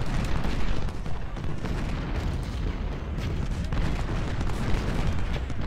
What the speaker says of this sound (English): Now the artillery's starting to hit him